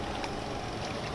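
Water pumps draining floodwater from homes after torrential-rain floods in China, heard as a steady, unbroken mechanical drone with a broadband hiss that holds at an even level throughout.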